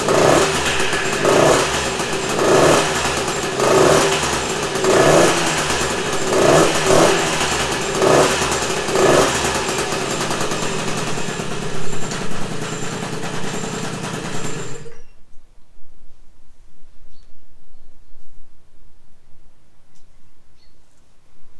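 A Motoconfort 40V moped engine starts and runs with a steady, buzzing two-stroke drone and rhythmic pulsing for about fifteen seconds, then cuts out abruptly, leaving near silence.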